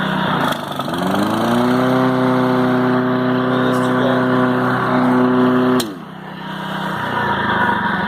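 A Honda HR215 lawn mower engine runs loud and close, its steady drone rising in pitch, then dipping briefly near the end before picking back up.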